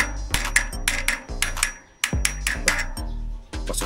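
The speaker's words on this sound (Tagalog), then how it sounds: "ginamitan para natin yung adapter para mas madaling ipasok yung bearing" A bearing is pressed into a Maxzone Stroke 1.0 bicycle hub with a socket wrench adapter, making a series of sharp metallic taps and clinks in uneven rhythm, close and fairly loud.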